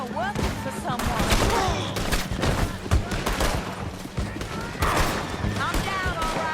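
Gunfire in the Red Dead Redemption 2 video game, with repeated rifle and pistol shots popping near and far in an irregular firefight, under a steady low background hum and occasional voices.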